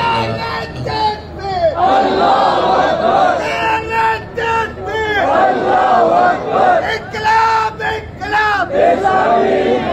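A large crowd at a protest in Karachi chants slogans in loud, rhythmic unison, with repeated bursts of shouting rising and falling across the whole stretch.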